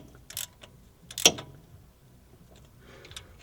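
A socket ratchet tightens a cam belt tensioner, giving a few quiet, brief mechanical clicks with one sharper click near the middle in an otherwise quiet workshop.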